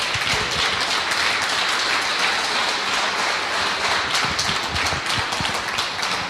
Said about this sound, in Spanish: Si vas a aplaudir, dáselo fuerte a nuestro Señor.